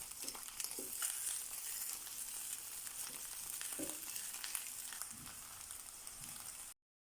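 Cauliflower steaks sizzle and fry steadily in a hot pan, a continuous crackling hiss with scattered pops throughout, ending abruptly.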